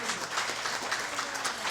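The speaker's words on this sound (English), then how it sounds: "we need to give a huge round of applause to Guy Loftman for organizing this in the first place" Audience at a community discussion event giving a brief, even burst of applause, many hands clapping densely with no voices over it.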